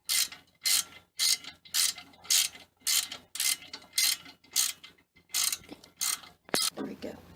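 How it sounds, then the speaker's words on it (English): Ratchet and 6-point socket loosening bolts on a Volkswagen, a steady run of about a dozen rhythmic clicking bursts, close and loud, with no talking. "make sure you use a 6-point socket or a 6-point wrench to break them loose"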